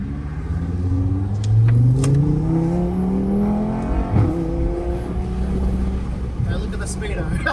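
A car engine heard from inside the cabin rises as the car accelerates, with a steady road hum and brief revs beneath, while someone talks over it.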